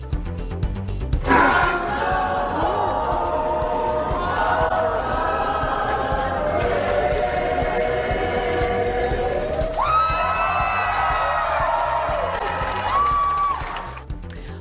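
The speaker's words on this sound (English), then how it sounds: "the hometown crowd sang the national anthem at the Salt Lake City airport" Hometown crowd at the Salt Lake City airport cheers and sings the national anthem together, a sustained mass of voices with rising sung notes and shouts, loud and continuous throughout.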